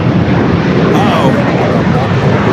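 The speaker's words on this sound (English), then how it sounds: "It's going around! Going around!" Jet aircraft going around at Los Angeles airport, a loud sustained engine roar with a brief rising whine partway through, heard close and continuous under a voice.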